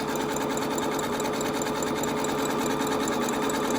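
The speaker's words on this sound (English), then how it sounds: "I'll set it to zigzag, and I will zigzag both short ends." A sewing machine runs steadily while zigzag stitching across the short ends of a fabric face mask, a continuous close mechanical whir with no talking.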